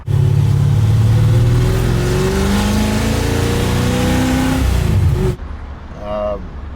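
Ford Mustang Boss 302 V8 bored out to 347 cubic inches, revving loudly with rising and falling engine pitch before abruptly dropping away, followed by a quieter tail with a voice.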